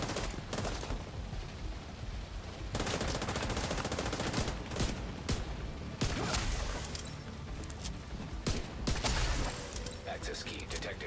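Rapid, loud automatic gunfire from The Division 2 rattles almost nonstop, with dense bursts and a few louder single cracks throughout, while a person talks over parts of it.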